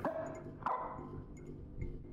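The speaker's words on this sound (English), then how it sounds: "We hear the dog barking." A dog barks in a horror video game, a few moderate barks spaced across the moment, heard alone without any talk.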